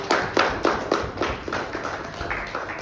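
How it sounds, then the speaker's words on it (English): Church congregation clapping for a man called up to the front during an Apostolic Sunday service, a short burst of applause with sharp claps that fade over a few seconds. "Give him a round of applause."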